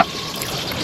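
Water runs in a steady, close rush, like a tap or a flowing outlet, continuous and fairly loud for the whole short moment with no talking over it.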